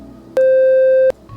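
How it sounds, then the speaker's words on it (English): A pure synthesizer sine wave tone sounds alone at one steady mid pitch for under a second, starting and stopping abruptly with soft clicks. "This is a sine wave, and by itself,"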